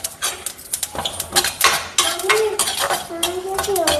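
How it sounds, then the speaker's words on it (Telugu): Sesame and cumin seeds dry-roast in a pan while a utensil stirs them, producing close, irregular scraping and clinking strokes with a faint voice underneath. "నువ్వులు జీలకర్ర 2 వేపేసుకోవాలి. చిట్పట్ అనే వరకు చాలు."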